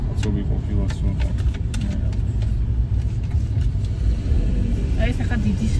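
Car traffic in a jam, with a steady engine rumble and road noise heard from inside a moving car, loud and continuous, with people talking over it.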